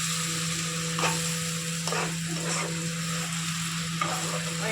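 Ginger garlic paste and chili paste frying in a pan for a spicy fish curry, a constant close sizzle broken by several scraping stirs of the spatula, with a steady low hum underneath and no talk.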